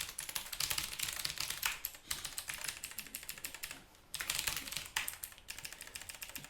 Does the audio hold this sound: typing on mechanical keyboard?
yes